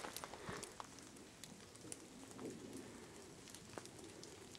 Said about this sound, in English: Sounds like rain, but it's ice.